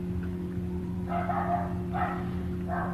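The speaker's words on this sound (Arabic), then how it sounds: "الكلب ينبح ومو راضي يسكت" A dog barks in three short bursts spaced about a second apart, moderately near, over a steady low electrical hum.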